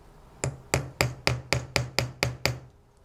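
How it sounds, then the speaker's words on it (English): Chasing hammer striking a steel setting tool to set tube rivets in jewelry, eight sharp, evenly spaced metallic taps close up with no talking. "Use your chasing hammer that already has the marks on it for hitting on the steel tool"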